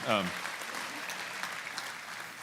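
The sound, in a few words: audience applause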